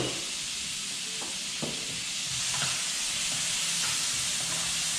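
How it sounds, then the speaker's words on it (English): Turnips and garlic searing in a hot pan on high to medium heat, a steady loud sizzle and hiss with a few soft clicks of stirring, close and without talk. "you just want us to cook it or at least sear it long enough to get a nice little brown sear or char marks on your turnips"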